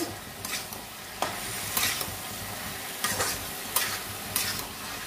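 Bottle gourd stirred in a frying pan for a lauer kalai dish, a spatula scraping and clacking in short repeated strokes over a steady low sizzle, close and alone without any talk.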